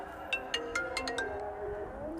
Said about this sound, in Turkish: Sürekli de videolarda telefonum çalmaya başlıyor.